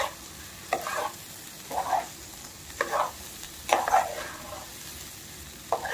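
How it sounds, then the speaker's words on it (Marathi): Rice dry-roasting in a pan for veg pulao, stirred with a spoon: several separate scraping, rustling strokes spaced about a second apart over a low, quiet background. "चांगला एक दोन मिनिट आपण हा भात तांदूळ भाजून घेणार आहोत"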